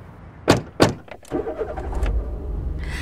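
A car near a beach: two sharp door thumps, a softer clunk, then the engine starting and a low rumble as it pulls away, close and alone.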